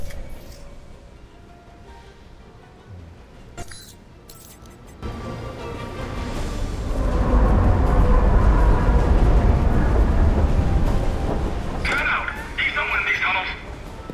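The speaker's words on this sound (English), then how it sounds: "Trains are pretty loud here." A train rolls past in the video game Alpha Protocol, starting as a low rumble and swelling into a loud, broad roar that holds for several seconds, with brief metallic clinks near the end.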